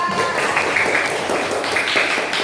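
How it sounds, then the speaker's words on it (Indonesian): Classroom applause for a student group during a school lesson, a steady wash of clapping from many hands lasting a couple of seconds, with faint voices mixed in. "Oke, tepuk tangan kelompok 2."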